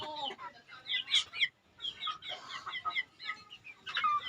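Sweater breed gamefowl chickens cluck and chatter close by at feeding time, with busy, overlapping calls that keep going almost without a break.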